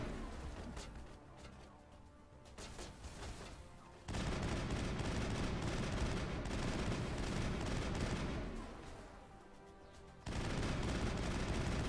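Gunfire in a shooter video game, dense bursts of continuous rapid shots in long sustained stretches with short quieter gaps between them.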